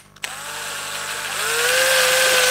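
A power drill whines steadily, its motor pitch rising as it bores holes into wood, close and loud after a brief click at the start.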